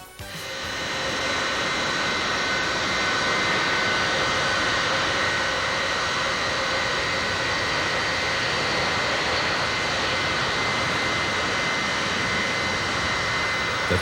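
A Boeing B-52 bomber's eight Pratt & Whitney jet engines roar loudly and steadily, rising quickly at the start and then holding a constant, dense whine without voices.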